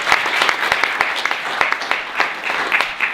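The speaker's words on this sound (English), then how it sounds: "everybody give him a round of applause as well" Audience applause at a startup networking fair panel at Duke, with dense, steady clapping from a crowd that stays fairly loud for about three seconds without letting up.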